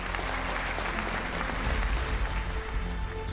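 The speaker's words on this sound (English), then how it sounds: "They deserve an applause." An audience applauds at a school investiture and awards ceremony, a dense, sustained wash of clapping from many hands that holds steady throughout, close and fairly loud.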